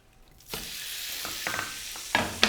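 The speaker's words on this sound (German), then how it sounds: "Das braten wir an." Food sizzles steadily in a hot pan, a continuous crackling hiss with a few sharper pops and stirring clatters near the end.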